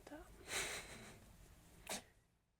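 Two quick, sharp sneezes, fairly faint and close, separated by about a second of quiet room noise.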